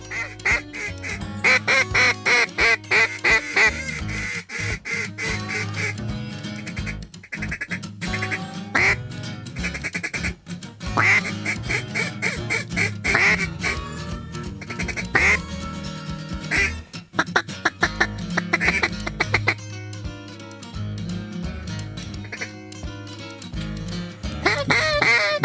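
Ducks quack repeatedly over a dense, continuous wash of sound during a river duck hunt, the calls coming in quick bursts and staying loud throughout.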